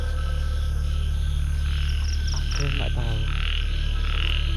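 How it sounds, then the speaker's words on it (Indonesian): Frogs croak loudly and continuously beside a river at night, layered rattling calls over a constant low drone, with insect-like chirps mixed in and no talk. "Kenapa kodoknya kuat kali? Karena ini sungai."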